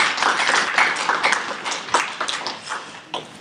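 A Korean church congregation claps briefly after a sung hymn, a scattered patter of hands that is fairly close and fades into a few separate claps.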